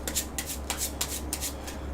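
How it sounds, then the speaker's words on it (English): Someone shuffles a deck of Dark Souls card game cards close by, in quick rhythmic riffling bursts and soft rubbing, with no one speaking. "And shuffle them up."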